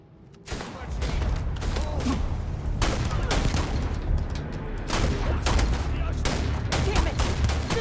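Gunfire in the space game Starfield, loud rapid volleys and single shots that begin abruptly and then carry on in dense clusters, with a voice calling out over the shooting.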